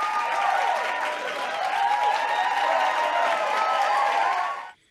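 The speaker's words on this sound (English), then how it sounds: "So let's have a round of applause and wild hand waving for our Leaders of the Year" A crowd at an awards event gives a sustained round of applause for award winners, steady, dense clapping that fades out abruptly at the end.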